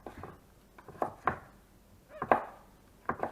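A knife slices thin cuts through woody, tough broccoli stems on a cutting board, with close, crisp chopping taps coming in small irregular clusters against a quiet background.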